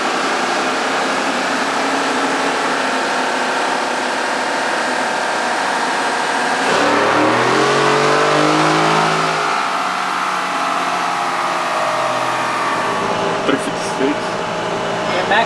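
A 2021 Ford F-150 on a dyno runs at full throttle with a constant loud engine and wind roar, the pitch sweeping up sharply midway as it hits the speed limiter, then easing off, under a wash of fan noise.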